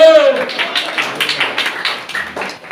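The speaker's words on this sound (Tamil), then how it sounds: "அல்லேலூயா சொல்லிக்கிட்டே கைதட்டுங்க பார்க்கலாம்" Congregation at a Sunday church service clapping hands in a steady rhythm of sharp, close claps, several per second, with voices talking and calling out over the clapping.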